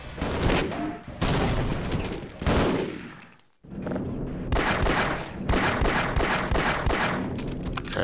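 Rapid bursts of gunfire in the Half-Life game, dense volleys with a brief drop to near silence midway before shooting resumes, loud and continuous throughout.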